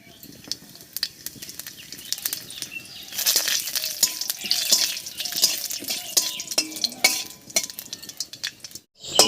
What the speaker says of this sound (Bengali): জিরা আর তেজপাতা একটু ভাজা ভাজা হয়ে গেছে